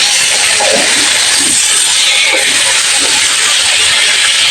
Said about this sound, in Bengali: মাছ ভাজার জন্য মাছ দিয়ে দিলাম কড়াইয়ের ভিতরে।